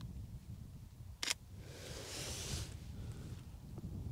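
A single crisp camera shutter click at 24mm, f/10 and 1/40 s, taken outdoors on a windy hilltop. It is brief and close, with soft wind noise all around and no talking.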